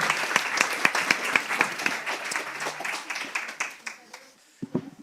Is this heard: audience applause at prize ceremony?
yes